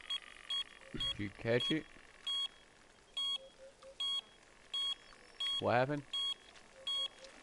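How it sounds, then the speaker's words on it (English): A fishing bite alarm beeps in short, evenly spaced electronic pulses throughout. It sounds faint and steady as two people talk in between. "I'm hearing a beeping."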